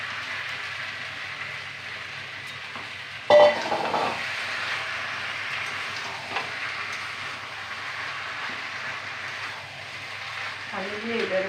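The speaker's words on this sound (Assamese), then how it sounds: "ঢালি দি এইদৰে মই লৰাই থাকিলোঁ।" Boiled lentils and chickpeas being stirred in a hot pan, a steady sizzle with scraping spoon strokes and one sharp clatter early on, with a voice talking faintly in the background.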